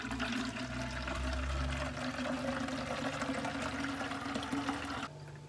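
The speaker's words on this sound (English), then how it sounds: "we are now going to pour the water in so that it will all mix together" Water poured steadily from a container into a watering can already holding houseplant fertilizer, a continuous close splashing fill that stops abruptly near the end.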